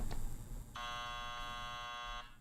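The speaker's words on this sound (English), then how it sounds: "I like bringing that buzzer" A game-show buzzer from a challenge-day quiz sounds once as a steady electronic tone lasting about a second and a half, clear and fairly loud against a quiet room.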